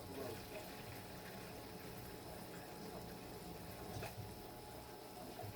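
Water poured into a simmering pot of pork hock adobo with beans, a faint steady splashing and bubbling wash heard alone at low level.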